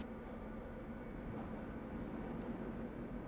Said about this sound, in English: the tram has returned to moderate shaking